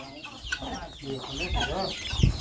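Chickens clucking nearby in a rural Thai farmyard with ducks, several short throaty clucks in irregular bursts, loud and close.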